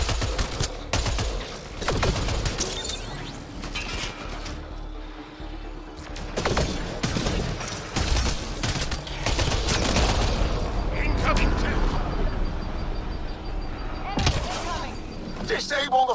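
Gunfire in the Mass Effect Andromeda video game comes as loud, rapid bursts and single sharp shots, with short gaps and dense volleys, mixed with game voices.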